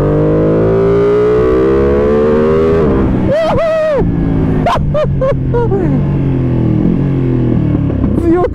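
A Ducati Panigale V2 engine revs hard as the bike pulls out of a curve, a loud rising roar with a sharp whining climb and quick throttle blips, steady wind rumble underneath.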